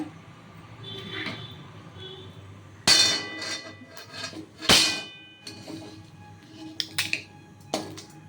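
Several sharp cracks and snaps, a few seconds apart, as a hard whole spice is broken by hand for garam masala, with quieter clinks and rustles between them.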